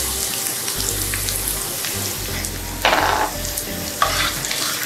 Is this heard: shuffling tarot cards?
no